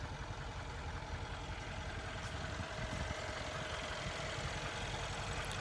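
A Mercedes-AMG engine idles with a steady, low, even rumble that holds at a constant level throughout, with no talking over it.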